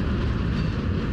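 Freight cars roll down a hump yard incline at about two miles an hour, giving a steady, loud low rumble throughout with no distinct clacks or breaks.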